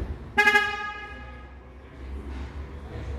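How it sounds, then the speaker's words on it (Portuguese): A 2023 Chevrolet Montana pickup honks to warn that it was locked with the key inside. A short, loud, pulsing horn blast rings out, then fades into low outdoor rumble. "ela buzinou para dizer até alertar que a chave presencial ficou lá dentro do veículo"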